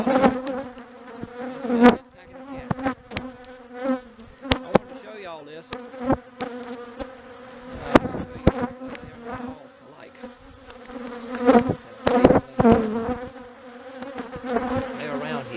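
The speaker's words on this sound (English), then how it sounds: "Not all bees are created equal." Honey bees buzz close by in a continuous droning hum, rising and falling as they move, with occasional sharp knocks.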